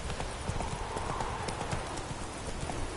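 Roach, the horse in The Witcher 3, trots with a steady run of close hoof clip-clops, brisk and continuous against a busy game ambience, with a brief voice under the hooves.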